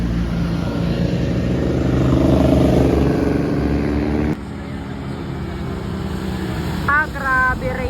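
Motorcycles, including a Suzuki Raider, a Yamaha NMAX and an Aerox, drone past on a road. An engine swells and fades over several seconds, then a quieter motor hum follows, with a short burst of talk near the end.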